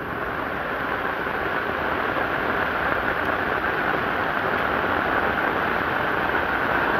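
A flooded river flows in a steady, broad rushing roar, constant and loud from start to finish with no breaks.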